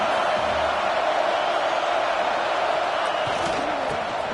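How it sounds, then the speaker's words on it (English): A packed stadium crowd in a college football video game roars continuously, a broad steady wash of cheering with a play-by-play voice talking over it. "this crowd coming to life here"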